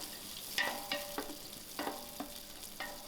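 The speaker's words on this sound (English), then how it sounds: "And I'll allow this onion to fry out" Onions frying in a pot over an outdoor fire, a soft steady sizzle with several distinct scraping stirs spaced through, close and moderately loud, no talk.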